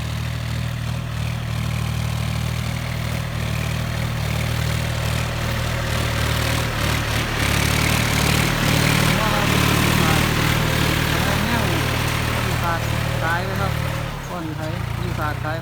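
A New Holland T3.55 tractor with about 900 hours drones steadily in second gear while plowing a rice field, its low engine hum rising and falling under the load as someone talks over it throughout.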